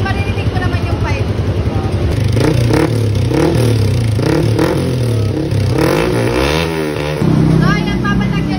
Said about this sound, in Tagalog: mag-sound check lang muna tayo ng with silencer at without silencer